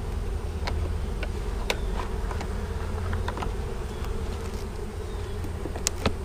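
Bees buzzing in a dense, steady drone around a hive during a cutout, with scattered faint clicks and ticks over the continuous hum, close and without speech.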